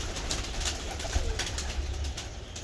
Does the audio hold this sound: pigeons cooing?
yes